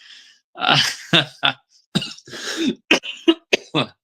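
Someone coughs and clears their throat repeatedly at close range, a burst of several harsh coughs followed by shorter separated hacks, alone with no talking.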